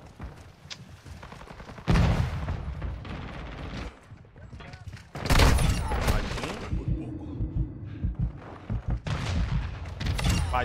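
Gunfire in the Call of Duty Modern Warfare 2 video game, with loud bursts of rapid shots in several clusters over a steady game soundtrack, while a player talks throughout.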